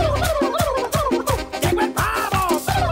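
A turkey gobbles repeatedly in quick, loud bursts, a close, rapid run of rattling calls that fills the whole stretch with no talking.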